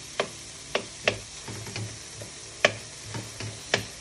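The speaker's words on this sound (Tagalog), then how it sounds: "ang bango talaga ng hipon at saka igisa mo." Shrimp sautéing in a pan, a soft sizzle under several sharp, separate clacks of a utensil striking the pan as it is stirred, close and fairly quiet.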